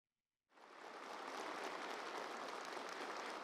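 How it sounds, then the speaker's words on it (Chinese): Navy officers and soldiers break into warm applause after a half-second of silence, a dense, even wash of many hands clapping that holds steady and full to the end. "在热烈的掌声中"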